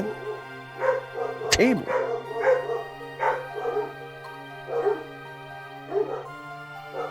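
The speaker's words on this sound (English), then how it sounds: "Quit bark bombing my stream, dogs." Several barks and yips from a dog ring out close by at intervals, with one sharp bark standing out, while a person speaks over them.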